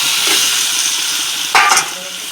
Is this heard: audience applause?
no